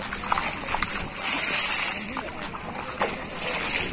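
Splashing and sloshing of muddy rainwater during a football game in the rain, continuous and close, with people talking over it.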